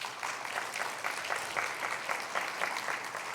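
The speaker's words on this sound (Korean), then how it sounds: "박수하겠습니다" A church congregation at a Sunday service applauds to welcome newcomers, with dense, steady clapping from a crowd that holds at an even level from start to finish.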